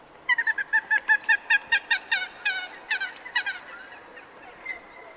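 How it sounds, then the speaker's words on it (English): A common gallinule calling from reeds: a fast series of about twenty loud, nasal, clucking squawks that slow and fade toward the end, with no other sounds. "Their calls include clucks, nasal squawks, and whinnying calls."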